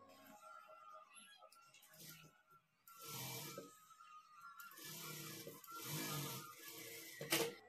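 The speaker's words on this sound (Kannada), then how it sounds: "ಒಂದು ಟಾಪ್ ಸ್ಟಿಚ್ ಹಾಕ್ಕೊಳ್ಬೇಕು।" A sewing machine top-stitches along the folded lining edge of a blouse in short, close bursts of rapid whirring. Quiet pauses and soft handling noises fall between the runs.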